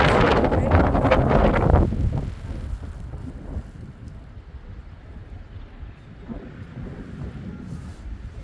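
A snowstorm in Helsinki brings strong wind that buffets the microphone with loud roaring gusts at first, then settles into a lower, steady rumble with smaller gusts.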